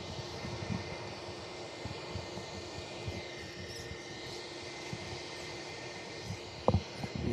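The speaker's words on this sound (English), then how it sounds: "Challenger 604 heading off as the Australian Maritime Safety Authority." A Challenger 604 business jet operating as a maritime safety rescue flight departs Perth Airport, its engine roar distant and steady, rising slightly near the end with a brief nearby clatter.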